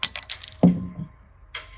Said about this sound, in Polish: Druga butelka jest po to, żeby otworzyć tę pierwszą.